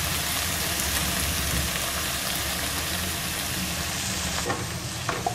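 Potatoes frying in a pan with soy sauce and tomato sauce, stirred constantly: a steady close sizzle fills the whole stretch, with occasional soft scrapes and clacks of a spoon near the end.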